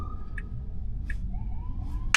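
Ambulance siren on a road heard from inside a Tesla car, faint and distant, with a rising wail under steady road noise and short chirps.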